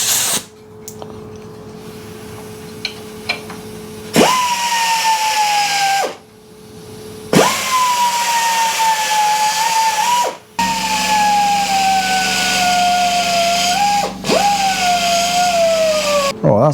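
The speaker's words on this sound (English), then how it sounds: "So I'm just going to do that with the belt, with the radius on the end." Belt sander with a radiused end shaping a metal tube bracket, running in loud sustained bursts with a high grinding whine that dips and recovers as the metal is pressed in, broken by short pauses, close by.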